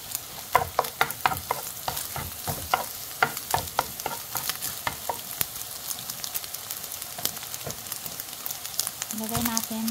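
An egg fries in a pan for homemade fried rice, with a steady crackling sizzle and frequent sharp spatula clicks and scrapes near the pan. A short tonal beep sounds near the end.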